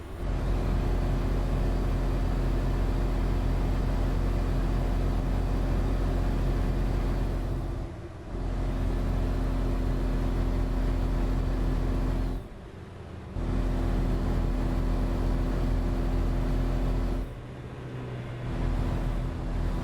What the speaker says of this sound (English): You guys can hear that engine.